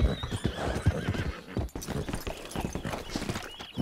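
Horse hooves clip-clop steadily in Red Dead Online, with a horse neighing and whinnying amid busy, dense game audio.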